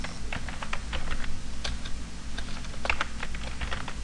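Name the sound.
typing a name on a computer keyboard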